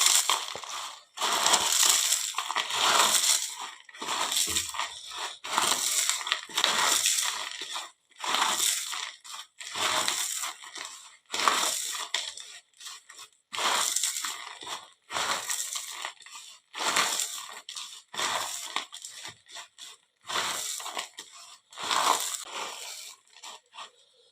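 Potato chips being crushed into powder by hand for a chips paratha stuffing, a close, loud series of dry crunching and crackling bursts in an irregular rhythm with short pauses, no talking.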